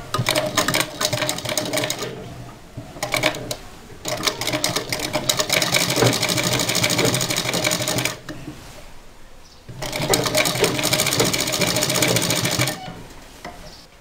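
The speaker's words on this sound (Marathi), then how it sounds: "तर आता हे इकडच्या सारखीच आपण ही इथे अशी शिवून घेणार आहोत" A sewing machine stitches lace onto a blouse neckline in loud bursts of rapid, even stitching, broken by short pauses, then runs again until near the end.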